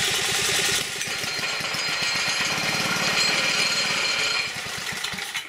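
A small engine on a concrete power screed runs steadily at close range, giving a fast, even, hammering chug with a dense mechanical rattle over it. The level holds nearly constant and eases slightly near the end.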